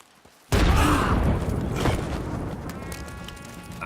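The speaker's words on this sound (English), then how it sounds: "That sounds like a cannon." In the video game Red Dead Redemption 2, a single loud cannon blast booms in close and then rolls into a long, rumbling decay with scattered crackles. No one speaks over it.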